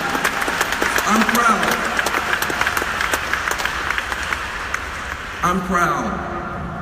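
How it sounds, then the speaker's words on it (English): Audience applause at the People's Summit, a political gathering, with a dense wash of claps filling the room over voices and a speaker talking through it. "Give Gihan Pereira a round of applause"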